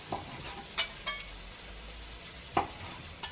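Bite-sized pieces of meat sizzle in a pot with sesame sauce, a low continuous frying hiss broken by a few sharp stirring clinks and scrapes, close and fairly quiet.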